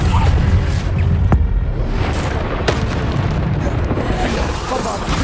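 Repeated explosive spell blasts in a wizarding action video game, heavy booming bursts with whooshing tails over constant loud combat noise, one sharp crack near the start of the clip.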